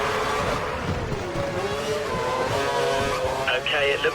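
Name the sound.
racing car engine at full revs in F1 video game, Monaco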